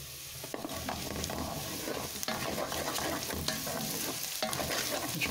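Hungarian lecsó sausage sizzles loudly and continuously in a hot pan while it is stirred and turned, with occasional scraping and clattering against the pan over the steady frying hiss.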